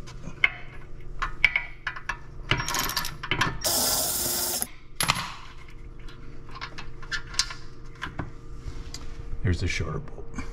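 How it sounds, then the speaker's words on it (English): Bolts being loosened and removed from the rear brake caliper of a Porsche Macan (95B.1), with clicking and ratcheting tool sounds and metallic clanks in bursts, plus a loud hiss-like burst midway, amid speech. "let's just take these bolts off"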